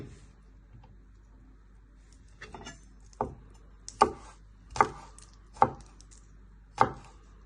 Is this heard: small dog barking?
no